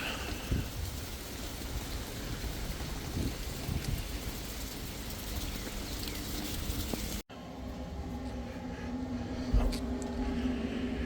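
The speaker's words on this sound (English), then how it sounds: "I wasn't about to let a little bit of rain ruin my" Steady rain falls outdoors during an evening Memorial Day brisket smoke on a Traeger pellet grill, a dense even hiss throughout with a brief break partway and a quieter, thinner stretch afterward.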